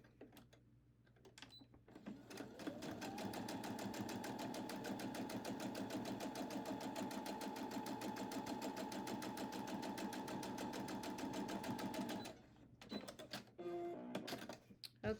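A sewing machine stitches fabric for a fabric box, a rapid steady mechanical chatter running for about nine seconds after a quiet start, then stopping abruptly, followed by faint handling noises.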